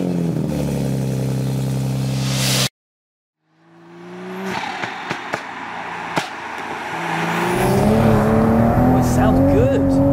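A tuned 510 bhp Toyota MK5 Supra with a B58 engine revs steadily, then cuts out briefly before firing back up and building into a strong, rising idle and rev, heard nearby alongside some talk.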